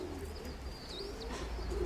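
Domestic pigeons, including an old grey hen and a black cock, coo softly and continuously in a loft, the low murmuring steady throughout with faint higher chirps above.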